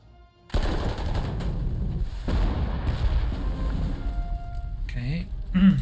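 Artillery fire in the war strategy game Panzer Corps 2 erupts suddenly after a brief quiet and rumbles on as a loud, continuous barrage of booms, with someone speaking over it.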